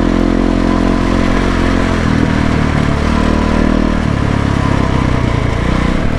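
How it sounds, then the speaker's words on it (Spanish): A loud motorcycle engine runs steadily and close by, with a dense, rumbling drone whose pitch shifts around the two- and four-second marks, like gentle revving. No voices. "vamos a tener una moto ruidosa"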